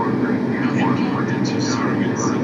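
A jet airliner in a flight simulator game taxis at Dubai, its engines a steady, loud hum with a low rumble that holds unchanged throughout.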